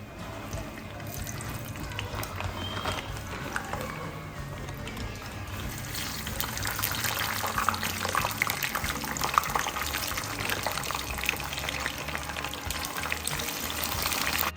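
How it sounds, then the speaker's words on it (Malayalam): Frozen French fries fry in hot oil with a dense, steady hiss that swells louder partway through and holds, close and unbroken. "ഇനി നെക്സ്റ്റ് നമ്മൾ ഫ്രഞ്ച് ഫ്രൈസ് ഒന്ന് റെഡിയാക്കുകയാണ്."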